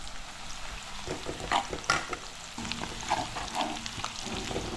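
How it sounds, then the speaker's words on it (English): Curry sizzling and frying in a pan while being stirred, with steady crackle and occasional scraping strokes of the spoon, close and fairly quiet. "Cooking, and within 5 minutes the curry will be ready to eat."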